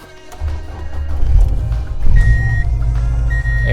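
A 1993 Subaru Legacy engine cranks and fires, then settles into a loud, steady idle with a high-pitched electronic beeping from the car coming in partway through.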